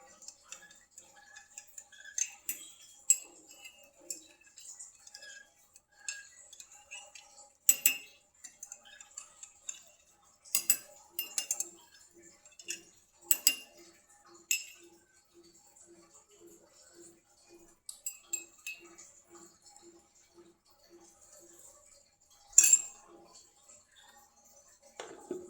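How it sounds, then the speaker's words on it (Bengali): A spoon stirs sugar into payesh, a rice pudding, in a pot, making soft, irregular metallic clinks and taps that come in scattered clusters against near silence. "এখন এই যে চিনিটা আমি গুলাচ্ছি"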